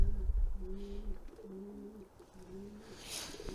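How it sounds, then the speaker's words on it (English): A home-bred pigeon cooing softly, three or four low, rounded coo phrases repeated in a steady rhythm, fairly close and quiet, with faint background noise. "This is a pigeon I bred myself"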